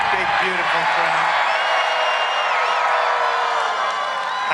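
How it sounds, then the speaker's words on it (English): Large crowd at a campaign rally cheering and shouting loudly and continuously, with whoops and a few clear voices rising above the roar. "This is a big, big, beautiful crowd."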